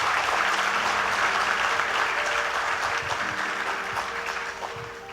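An audience at a network marketing business seminar gives steady, enthusiastic applause for clients. Many hands clap together in a continuous, even roar that gradually softens toward the close.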